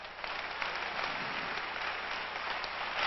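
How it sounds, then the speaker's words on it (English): Church congregation clapping hands together at a 1997 revival meeting, a dense sustained patter of applause that carries on evenly from start to finish, slightly distant and muffled. "Put your hands together and let's clap our hands to the Lord right now."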